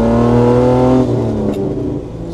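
A modified 4x4 SUV engine revs up loudly close by, a rich throaty drone that climbs, then drops back to a lower idle-like rumble.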